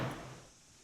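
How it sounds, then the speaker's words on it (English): A single close, dull thud as a door shuts in the Railroads Online train game, quickly fading away. "So the doors can close."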